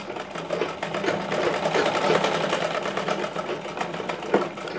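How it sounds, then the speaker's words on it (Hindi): A sewing machine races at speed while stitching a katori blouse, giving a dense, continuous mechanical whir with rapid needle clatter that holds close and loud throughout, with no voices over it. "तो ये इस प्रकार से स्पीड से यहाँ पर सिलाई चला लीजिए"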